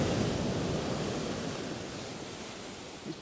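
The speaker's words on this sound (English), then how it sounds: "the sea's got a lot to say for itself" Sea surf breaking and surging onto Chesil's shingle beach at high water slack, a steady broadband wash that eases slightly toward the end, with no voices.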